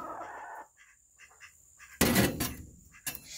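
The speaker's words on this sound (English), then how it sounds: "you'll hear the noise of her squawking" A broody hen sitting on eggs gives soft low clucks, then breaks into a loud, harsh squawk followed by another short squawk.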